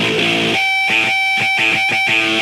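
A heavily filtered rock guitar tone from a song, thin with almost no low end, played in short rhythmic chopped bursts with stabbing attacks over a few seconds.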